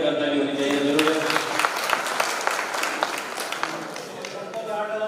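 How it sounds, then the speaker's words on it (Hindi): Audience clapping at a radio listeners' conference in Buldhana, starting strong and then thinning slightly. Individual claps are audible within steady applause, with some voices over it. "सभी के लिए जोरदार एक ताली होनी चाहिए"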